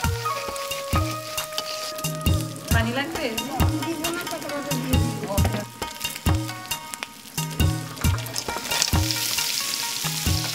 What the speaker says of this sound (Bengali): কাঁকড়ার টুকরোগুলো কষানো হবে এখন।